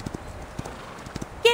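Horse hooves in the video game Reverse: 1999 beat in a quick, uneven galloping rhythm, close and moderately loud, ending with a sharp voice cry at the close.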